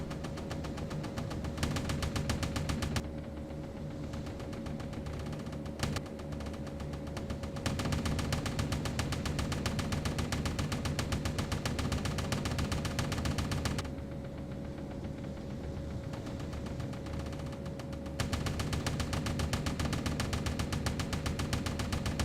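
Ship gun crews in the naval game Destroyer Command fire at aircraft in a steady, sustained rattle of automatic fire over a constant engine drone, with brief pauses and no talking.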